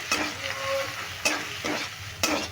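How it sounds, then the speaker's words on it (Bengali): Chana dal sizzling in oil as it is stirred, loud and close, with three distinct scraping sweeps of a spatula punctuating the steady frying hiss; no speech. "এবার ডালটা দিয়ে তেলে আমি ভালো করে নাড়তে থাকবো"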